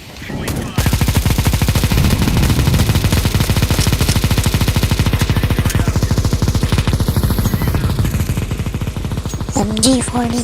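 An MG42 machine gun in a video game fires one long unbroken burst, rapid and loud, holding steady for about nine seconds before cutting off, with a voice briefly heard at the very end.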